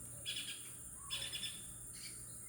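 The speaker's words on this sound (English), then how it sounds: "did you hear that? That's the carpintero." Call of a carpintero, a woodpecker, heard outdoors in Mexico: a few faint, distant high-pitched chirping phrases repeated over a quiet steady background hum.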